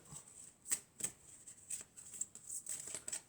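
Oracle cards being shuffled by hand, quiet close riffling and flicking with short crisp bursts in an irregular rhythm, soft and isolated with no talk.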